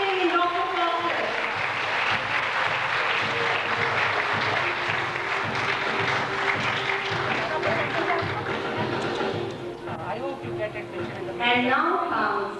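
Applause at a school annual day prize ceremony for a student award winner, a steady sustained crowd clapping with a spoken voice over it, tapering near the end.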